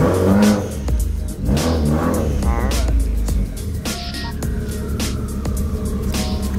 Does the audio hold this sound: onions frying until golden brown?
no